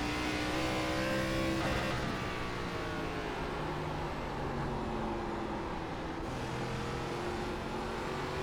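ARCA Menards Series race cars at USA International Speedway in the iRacing video game drone steadily at high revs along the oval, with a constant engine roar and subtle pitch shifts as cars pass.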